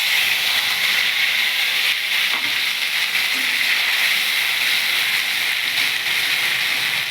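Green chillies and nigella seeds sizzle in hot oil for a vegetarian eggplant dish, giving a steady, loud, close hiss that runs evenly throughout with no talking.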